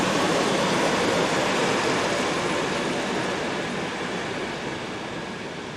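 An electric train on a busy Austrian main line rushes past as a loud, continuous rumble and roar that slowly fades toward the end.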